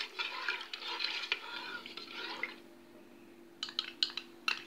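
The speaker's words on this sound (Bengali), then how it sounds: "এবার আমরা কাস্টার্ড পাউডারের যে মিশ্রণটা করে রেখেছি দুধ দিয়ে, যে মিশ্রণটা, এটা আমরা মিশিয়ে দিব" Custard powder mixed with milk stirred in a pan: soft, wet swishing that fades out, then a few light clinks of a spoon against the pan, close and quiet, with no talking.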